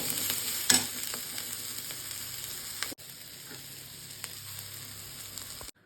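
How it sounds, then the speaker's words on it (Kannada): Grated coconut frying in a hot pan with the stove just turned off: a quiet, continuous sizzle with a few scraping stirs near the start, fading slightly after a brief cut, close and faint, with no voices. "ಆ ಬಿಸಿಗೆ ಕಾಯಿ ತುರಿ ಎಲ್ಲ ಚೆನ್ನಾಗಿ ಫ್ರೈ ಹಾಕ್ಕೊಳ್ಳುತ್ತೆ."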